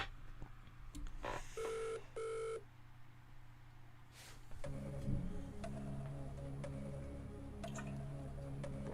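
A quiz game show's phone-a-friend lifeline: two short electronic telephone ring bursts, then a steady beeping tone pattern and line noise, loud and close.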